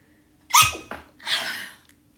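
A single sharp sneeze bursts out nearby, followed by a breathy exhale, with no talking.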